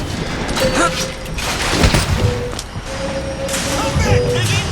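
A flak cannon fires during combat in the video game Bioshock Infinite, with repeated booming blasts and crackling explosions spread through a loud, chaotic battle mix.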